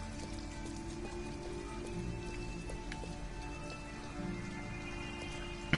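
Rain falls in the video game Detroit: Become Human, a quiet continuous patter with light drips under a low game-score hum, no talk.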